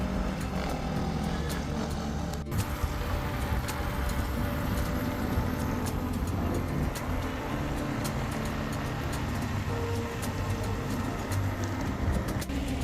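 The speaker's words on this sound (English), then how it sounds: "Oh, that's cool. Little train." Small train in bushland rumbling past as a steady, broad, moderately loud roar that persists throughout, with faint bird calls in the background.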